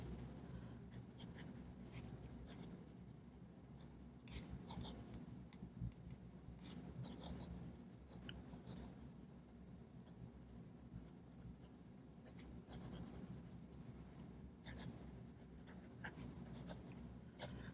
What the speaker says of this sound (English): Try some fast writing.